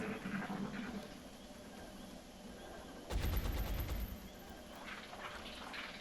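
Burst of gunfire from the XCOM video game, a rapid volley of cracks around the middle of the clip over a steady background bed of game ambience, with no talking.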